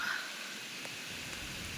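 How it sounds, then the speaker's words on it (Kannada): Rain starting again near Mallalli falls, a soft, steady outdoor hiss of falling drops, faint and continuous throughout. "ಮಳೆ ಮತ್ತೆ ಸ್ಟಾರ್ಟ್ ಆಯಿತು"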